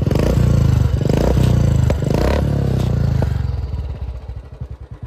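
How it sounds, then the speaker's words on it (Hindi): A Royal Enfield Classic 350 motorcycle engine runs steadily up close with a rhythmic thumping beat, briefly revving a few times before settling into a loping, uneven idle. "अभी भी इंजन बहुत साइलेंट है ये रॉयल एनफील्ड का इतना मनो इतना साइलेंट इंजन"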